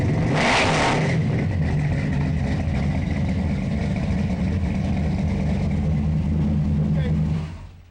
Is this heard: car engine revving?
yes